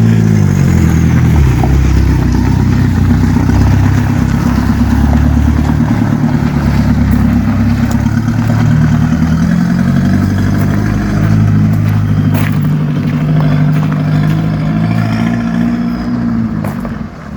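A rare ABT Audi TT engine runs loud and close as the car rolls along a private drive, a continuous throbbing exhaust note with slight rises in revs throughout, no talking.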